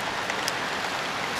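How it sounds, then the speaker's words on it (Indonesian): Heavy rain falls in a rural village setting, a dense, constant hiss of drops on surfaces nearby, steady and unbroken throughout. "Wah, hujan semakin gede ini. Wah, hujan semakin besar."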